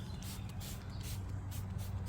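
Repeated hissing bursts of a spray bottle misting P&S Absolute rinseless wash solution onto a car, several quick pumps in a row over a low background rumble.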